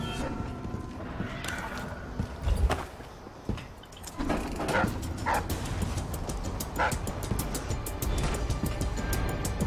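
Dogs bark repeatedly in the stealth game Dishonored: Death of the Outsider, sharp barks and yips rising over a steady, busy game background with mechanical clatter and a door sliding.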